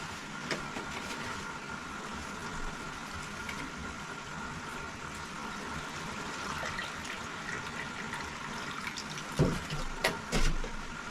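Water pours steadily into a container of freshly cut flower stems on a small flower farm, a continuous close splashing wash lasting throughout, with a couple of louder knocks near the end.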